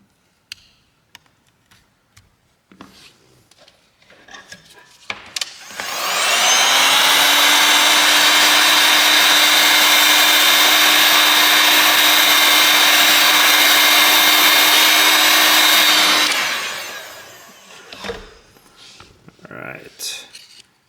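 A heat gun blows steadily on a BLU G74 phone screen to soften its glue, a loud continuous whir with a whine that runs for about ten seconds before cutting off, with quieter handling noises before and after.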